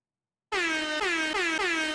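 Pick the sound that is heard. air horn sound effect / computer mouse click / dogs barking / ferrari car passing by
air horn sound effect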